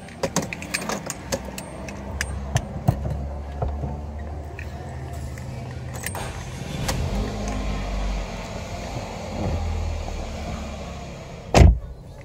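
A Mercedes CLA 180 engine turns over and settles into a low, steady idle, with scattered clicks and interior handling noises nearby.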